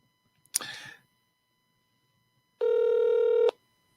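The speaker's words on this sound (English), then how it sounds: "I'm going to call Jaden on the phone now" A telephone call being placed: a short burst of noisy clicking from the handset, a pause, then a steady electronic ring tone of almost a second, close and clear with no talk.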